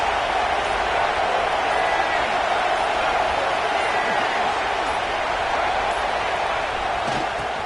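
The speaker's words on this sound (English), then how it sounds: "This crowd trying to make life miserable for this offense." Dense, steady roar from a football stadium crowd trying to rattle the opposing offense, a constant wash of massed voices and noise with no breaks.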